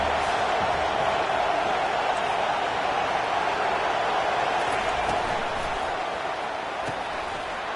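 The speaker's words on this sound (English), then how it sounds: "Third down and the crowd really getting into it." A large football stadium crowd roars steadily on a third down at a college game, a dense, continuous wash of cheering that stays loud throughout and fades only slightly at the end.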